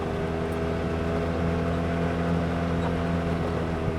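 Engine of an Arctic Cat Wildcat Trail 700 side-by-side fitted with a D&P Performance vented cover runs at a steady idle, a continuous close, even drone with no changes in pitch.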